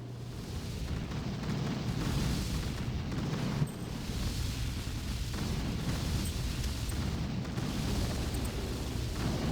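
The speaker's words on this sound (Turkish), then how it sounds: "Ama çok fazla roket var." Rockets exploding during an attack in the mobile strategy game Boom Beach, a dense, continuous rumble of overlapping blasts that holds loud throughout with no talking.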